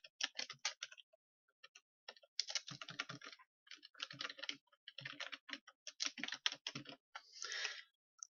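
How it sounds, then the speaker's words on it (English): Typing on a computer keyboard comes in quick bursts of close clicking keystrokes, pausing between words, quiet and alone without any voice. "and then you type in your WordPress URL"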